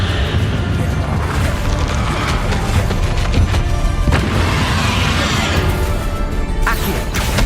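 Spell blasts in a goblin battle in the video game Hogwarts Legacy, a dense, loud run of booming crashes and fiery impacts layered over constant combat noise.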